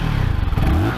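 A 2022 CF Moto 300SR motorcycle, standing on its side stand with an underslung exhaust, rumbles loudly up close and then revs, its engine note climbing sharply in pitch near the end.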